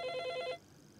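A telephone rings in a short, warbling electronic trill that lasts about half a second, then stops and leaves a faint, quiet room tone.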